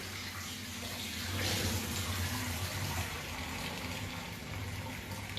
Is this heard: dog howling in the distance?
no